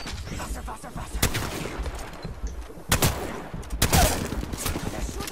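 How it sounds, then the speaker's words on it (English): Bursts of gunfire in Apex Legends, several sharp volleys at about 1.2, 2.9 and 3.8 seconds over a steady rumbling battle background, close and loud, with faint talk underneath. "They're shooting at me."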